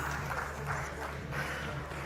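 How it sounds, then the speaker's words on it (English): An audience applauds at a CIO awards summit grand finale, a dense, even wash of clapping from a crowd, somewhat distant and steady throughout. "A round of applause for our mystery man."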